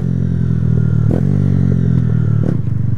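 A motorcycle idles and revs close by with a loud, steady engine drone, broken by a couple of clunks as the rider shifts gears without using the clutch.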